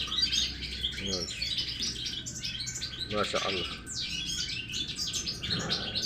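Goldfinches feeding together chirp and twitter almost nonstop, a busy chorus of close, bright calls, while someone speaks briefly over them.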